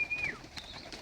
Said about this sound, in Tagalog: May mga kalapati pa siya.